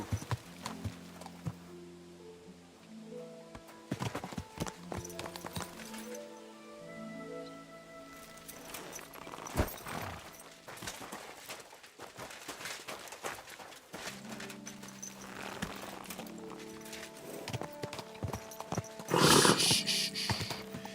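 Horse hooves clip-clop at a steady trot in Kingdom Come: Deliverance II, close and continuous over background game music, with a louder, busier burst near the end.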